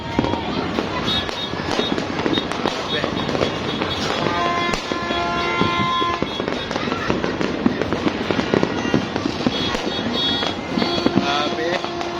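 New Year 2024 fireworks burst in a dense, continuous barrage of loud cracks and booms for the full length, with crackling layered throughout and voices talking faintly underneath.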